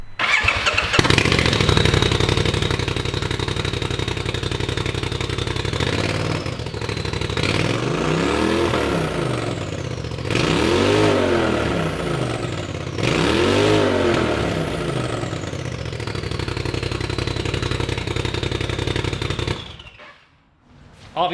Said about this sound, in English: I think this necessitates a fire up without the exhaust on.